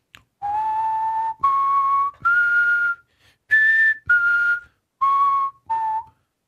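Seven short whistled notes in a row, clear and close, spell out an augmented arpeggio, each tone held briefly with small gaps between them and no speech.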